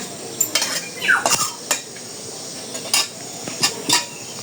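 Spices being ground by hand after cumin, in a village kitchen: repeated scraping and clinking strokes of stone or metal, close and moderately loud, coming in short irregular bursts with pauses between.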